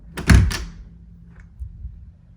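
An indoor door is opened close by with one solid thunk and rattle, followed by a faint softer knock and quiet room noise.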